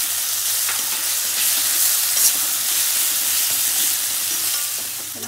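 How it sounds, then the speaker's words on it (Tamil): Three green chillies sautéing in a pan for a white vegetable kurma, heard as a loud, steady, close sizzle of frying that does not let up, with faint stirring scrapes mixed in. "மூணு பச்சை மிளகாய் எடுத்து வச்சுருக்கேன் அதையும் நல்லா வதக்கிடுங்க"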